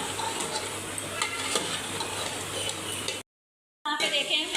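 Chicken pieces for white chicken karahi frying over a medium flame, with a steady close sizzle and rhythmic stirring scrapes for about three seconds, then a brief silence before the frying resumes.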